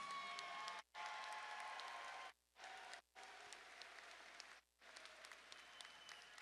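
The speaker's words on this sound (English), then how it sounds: "a round of applause for one hell of a contest" Crowd applause at a cage-fighting event after a three-round bout, steady clapping broken by several abrupt silent gaps, fairly faint overall.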